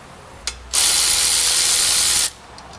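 A ratchet working on the caliper bracket bolts of a car's brake: a short click, then one loud, close burst of harsh, continuous mechanical whirring lasting about a second and a half before it cuts off.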